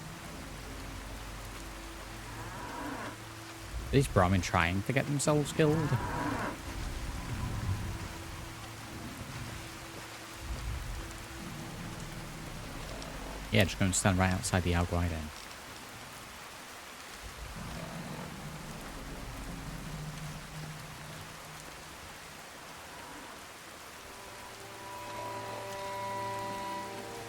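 Steady rain in the video game Fallout: Tale of Two Wastelands hisses evenly throughout, with a couple of louder bursts of game sound, while people talk over it.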